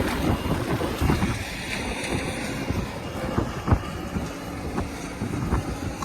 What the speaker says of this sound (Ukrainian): Комбайн працює.